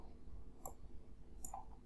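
Two crisp computer mouse clicks about a second apart while editing in DaVinci Resolve's Cut page, close and quiet over a faint room hiss.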